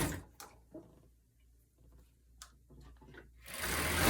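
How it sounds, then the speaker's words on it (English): A sewing machine zigzag-stitches fold over elastic onto a triangle top, running in short bursts with brief stops and growing louder and steadier toward the end. "Start it from the bottom and continue sewing."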